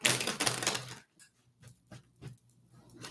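Tarot cards being shuffled by hand: a burst of crisp riffling at the start, then a few soft taps and slides of the deck, close and quiet.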